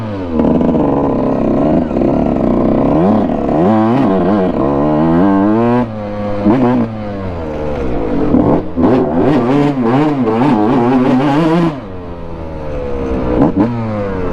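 A dirt bike engine revs and climbs through gears while riding on dirt around an abandoned golf course, loud and close with repeated rising and falling pitch sweeps and a brief drop near the end.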